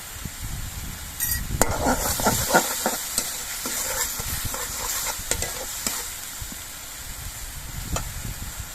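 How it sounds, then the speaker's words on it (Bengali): Onion paste and garlic paste sizzle in hot oil in a pan, a loud steady frying hiss punctuated by repeated sharp scraping and tapping strokes from a stirring spoon, easing toward the end. "পেঁয়াজ বাটাগুলো একটু লালচে রং করে ভেজে নিতে হবে"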